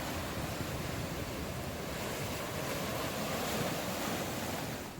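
Sea waves on the beach at Mahabalipuram, a steady, broad roar of surf mixed with wind buffeting the microphone, with no distinct breaks or voices.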